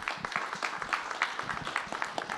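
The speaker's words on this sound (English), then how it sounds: "they're not here to hear your applause" Scattered audience applause at a closing address, a fairly quiet, steady patter of many hands clapping with no voices over it.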